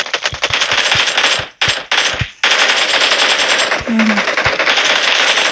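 Gunfire in the mobile battle royale game PUBG Mobile: loud, rapid automatic bursts with short pauses between them, close and alone, with no talking.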